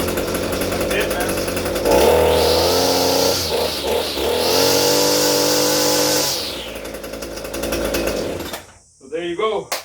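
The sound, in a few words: Echo SRM 230 string trimmer engine running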